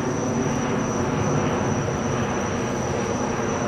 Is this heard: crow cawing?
no